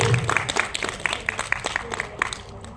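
A small audience applauds at an award handover, with steady, close hand clapping that carries on unbroken for the whole stretch.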